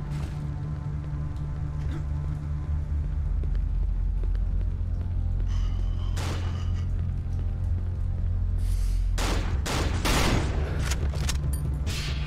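Gunfire in the horror game Cry of Fear, a few scattered shots over a steady low droning hum, closing in a loud cluster of blasts near the end.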